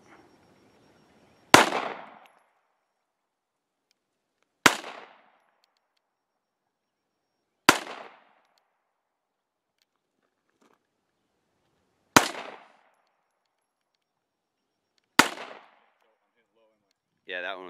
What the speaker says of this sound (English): now we're gonna shoot some 9 at it